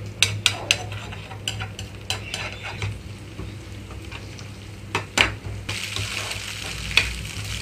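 Egg stirred and fried in a pan over medium flame, continuous sizzle punctuated by clattering scrapes of a spatula against metal, close by.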